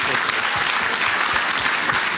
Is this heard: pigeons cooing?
no